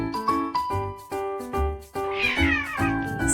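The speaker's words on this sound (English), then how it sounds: "cat. Meow meow." A domestic cat meows several times in a row, each call short and clear and separated by brief pauses, with a light tinkling tune playing behind it and no talking.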